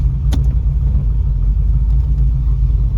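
A 1981 Pontiac Trans Am idles at steady close range, a deep continuous rumble under a faint upper hiss, with one brief sharper click early on and no talking.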